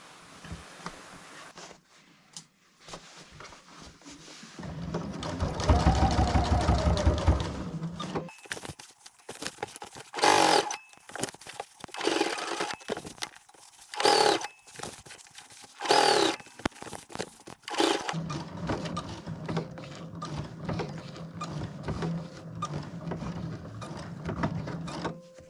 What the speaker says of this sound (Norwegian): så syr jeg først en kant helt øverst